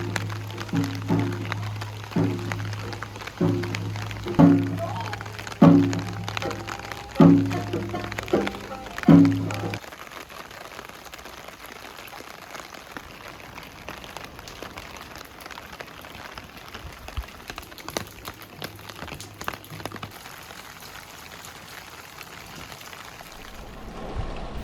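Rain falls steadily on a street lined with cherry trees on a rainy evening, a continuous soft patter with rhythmic knocking and low hum in the first half, then gentler and quieter.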